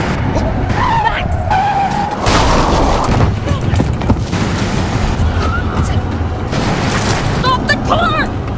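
A car skids to a stop in the video game The Quarry, with loud tire squeals, a thudding impact and rumbling engine noise, while voices shout over the commotion.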